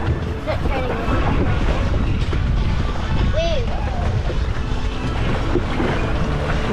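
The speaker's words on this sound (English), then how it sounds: "These waves are rough." Rough sea waves slosh and churn around an aquacycle, a steady broadband wash of water mixed with wind buffeting the microphone, with people talking faintly over it.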